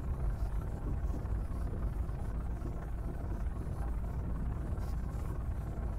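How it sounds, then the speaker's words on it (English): Low, continuous thunder rumble from a lightning storm in the space game Underspace, a steady deep roll holding at even loudness for several seconds with no voices. "Here's the lightning."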